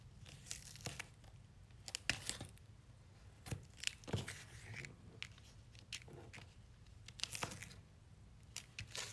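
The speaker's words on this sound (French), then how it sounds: "je prends mon double face plus épais cette fois-ci" Thicker double-sided tape peeled off its backing while making a handmade Christmas card, giving several short, close tearing and crinkling rips spread across a quiet background.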